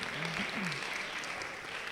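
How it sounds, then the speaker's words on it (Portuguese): Applause at a youth parliament preparatory workshop: soft, steady clapping from a group, fairly distant and low in level, with a brief voice-like tone rising early on. "Palmas para ele."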